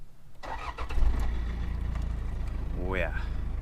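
A Toyota Hilux Surf's 3-litre 1KZ-TE turbo diesel runs just after startup, a steady low rumble throughout, with a brief rising whine near the end and some background voices.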